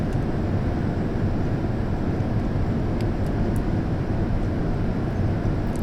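A steady, broad jet roar from a B-47E Stratojet on landing approach in Flight Simulator X, continuous and even in level throughout.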